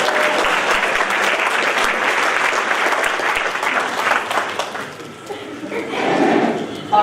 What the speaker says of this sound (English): Another round of applause for Sue.